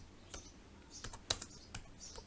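Quiet typing on a computer keyboard, a short run of light irregular key clicks up close with no voices.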